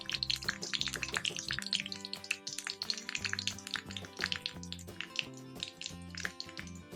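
Dense crackling and sizzling of mustard seeds popping in hot oil, a steady busy stream of sharp little pops close up, with no talking.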